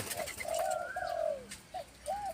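A trained wild bird calls outdoors in a soft, cooing dove-like voice. Several drawn-out, gently rising and falling coos are set apart by short pauses and carry clearly over a quiet background.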